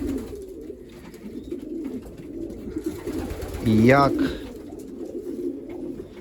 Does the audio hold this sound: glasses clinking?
no